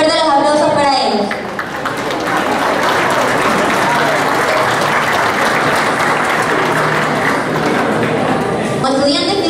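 Loud, dense applause from a graduation audience for the rector and vice-rector fills the whole stretch, steady and close, with a brief dip near the start and voices at either edge.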